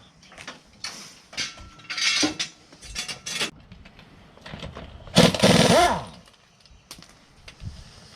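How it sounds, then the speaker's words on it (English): Lug nuts coming off a car's rear wheel during a ball joint replacement: scattered metallic clanks and short mechanical whirs, with one louder, longer grinding burst near the end, close by. "I always go in a star pattern when I take the lug nuts on and off"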